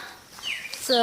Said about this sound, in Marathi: किती सुंदर पक्ष्यांचा आवाज येतो आहे तुम्ही बघू शकता